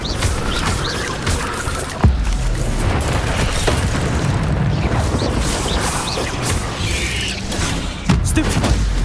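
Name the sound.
spell casting blasts in video game Hogwarts Legacy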